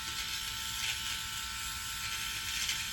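A Freebird FlexSeries electric shaver trims nose hair with a continuous, steady high-pitched buzzing drone that stays close and even throughout, with no talking.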